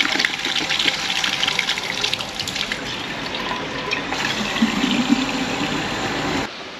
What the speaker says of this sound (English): at least fill up the water bottle.